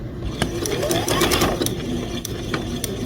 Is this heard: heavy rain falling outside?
no